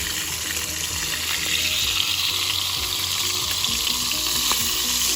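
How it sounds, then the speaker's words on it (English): Steak searing in a frying pan after being flipped, a dense continuous sizzle with a faint low hum running underneath, steady and close throughout. "It's time to flip this steak."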